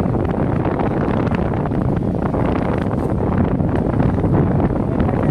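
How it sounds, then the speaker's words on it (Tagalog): Strong wind buffets the microphone in a constant loud roar during an outdoor DJI Mini 3 drone flight, steady and unbroken throughout with no voices. "Lakas ng hangin sir, oh."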